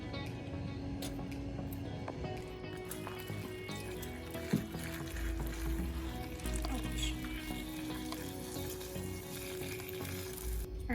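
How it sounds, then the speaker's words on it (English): Sugar syrup poured over hot fried Guyanese sweets, giving a steady close sizzling and bubbling hiss for the whole stretch, with a brief sharp clink partway through. "And now I'm going to add my sugar syrup."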